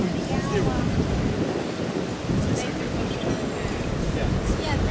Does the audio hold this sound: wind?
yes